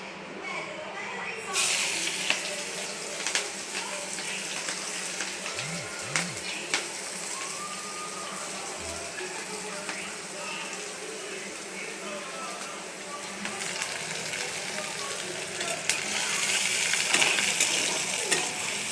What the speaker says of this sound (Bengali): তাহলে প্যানে তেল গরম করতে দিছি